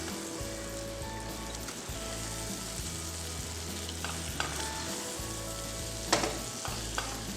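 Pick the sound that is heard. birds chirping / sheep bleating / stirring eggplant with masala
stirring eggplant with masala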